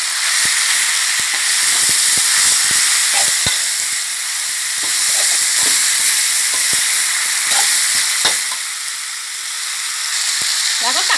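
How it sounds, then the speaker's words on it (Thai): Shark pieces are stir-fried with cumin leaves and young galangal in a hot wok, giving a loud, continuous sizzle and hiss throughout. Repeated sharp scrapes and taps of the spatula against the wok sound over it. "แล้วก็ผัดทุกอย่างให้เข้ากันเลยนะคะ"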